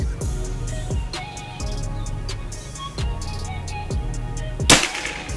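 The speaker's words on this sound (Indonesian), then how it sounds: "tembakan ketiga." A single sharp crack from a Predator Tactical Gen 5 PCP air rifle cuts through near the end, firing at a target, brief and fairly close over a steady tonal background.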